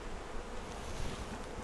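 Honey bees buzz steadily around an opened hive during a pre-spring inspection, a soft, even drone close by with no talking.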